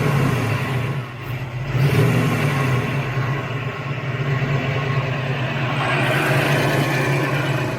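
A 347 stroker V8 in a coupe runs at a loud, steady idle, a deep rumbling drone with a slight dip and rise as the idle screw is adjusted.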